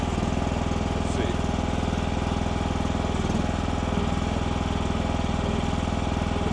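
A Chinese mini skid steer's small engine runs nearby with a steady, loud, buzzing drone and an even rapid pulse, holding constant throughout.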